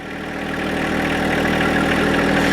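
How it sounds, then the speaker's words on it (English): A John Deere 2025R compact tractor engine idles close by, a steady mid-low drone that swells slightly after starting and holds constant throughout. "tractor starts right up"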